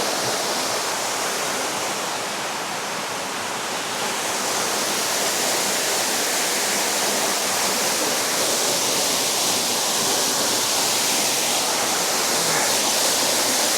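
A waterfall cascade roars as a steady, dense rush of water, loud and close, running unbroken with no voices.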